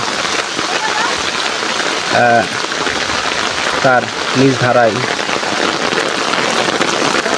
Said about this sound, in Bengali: চমৎকার পরিবেশ এবং বৃষ্টি হচ্ছে